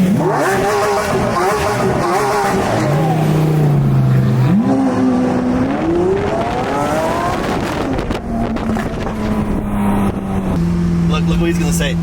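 Ford GT engine revving and pulling through rising and falling pitches, loud and close with wind rush, a driver talking over the engine throughout.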